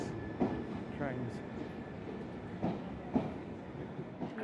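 Passenger train running on rails with low rumbling carriage noise and periodic clunks from the wheels, steady throughout at moderate level, with faint background voices and no clear speech.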